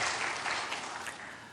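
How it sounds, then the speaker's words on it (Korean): Church congregation applauding the choir after a hymn, steady broadband clapping throughout the short stretch, moderately distant and fairly quiet, with no talk over it. "다시 한번 박수 한번 해주시죠."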